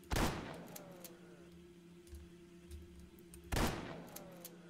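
Two heavy gunshots roughly three seconds apart in the horror game Devil's Valley, each a loud crack with a ringing tail, over a low droning ambience.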